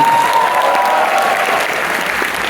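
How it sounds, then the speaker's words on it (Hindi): Steady, loud applause from a crowd for an organising committee at an IIT BHU event, dense clapping sustained throughout without pause. "एक बार जो भी ऑर्गेनाइजिंग कमेटी उसके लिए जोरदार तालियां बजाइए"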